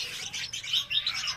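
Young red-whiskered bulbuls at a bird farm chirp in a busy stream of high, thin calls, close and fairly loud, overlapping with quick repeated tweets and no voices.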